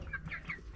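Young chickens about two months old, no longer babies, cluck softly in a backyard coop during winter watering chores, a few short close calls with a brief louder burst at the end.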